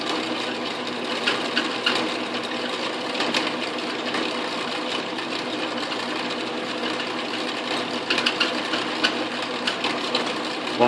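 A steady, close mechanical whir with a grinding, chattering edge runs without pause as an Atlas/Craftsman lathe drills about 1.5 inches into metal, with no voices over it.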